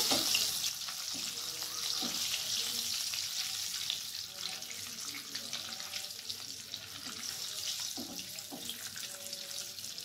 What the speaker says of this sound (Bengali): ডিমটা আমি এখানে হালকা করে ভাজবো